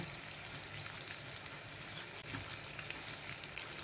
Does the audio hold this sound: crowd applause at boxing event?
no